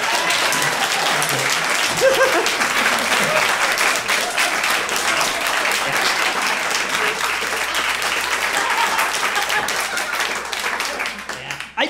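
A comedy club audience breaks into sustained, loud applause, a thick wash of clapping that carries on throughout, with a brief spoken word over it and a low hum underneath.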